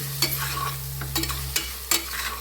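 Onion and tomato cooking with salt in a pan give a steady sizzle, with a few sharp stirring scrapes spaced through the short stretch and no voices.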